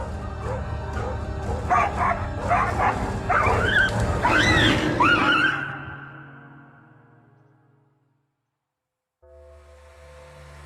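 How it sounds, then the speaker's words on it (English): Several dogs in a Russian town bark and yelp excitedly in a continuous overlapping chorus, raising an alarm at a tiger, moderately close, then the noise fades abruptly into near silence. "As usual, dogs are the first to sound the tiger alarm."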